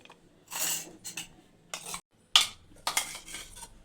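Ground chili paste being scooped from a mixer jar into a bowl with a spoon, giving several short close scraping and clinking bursts of metal against steel, separated by brief pauses, with no talk.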